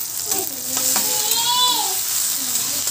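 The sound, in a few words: vegetables frying in oil in a pan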